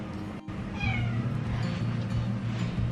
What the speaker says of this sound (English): Let me bring my cat over.